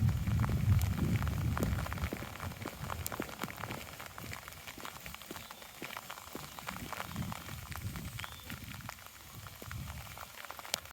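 Heavy rain pouring down on a wet, windy countryside walk, a steady dense patter with close drops striking nearby surfaces, loudest at the start and easing slightly afterward.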